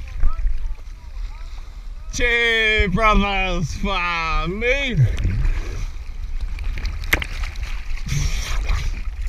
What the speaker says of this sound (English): boat turned up.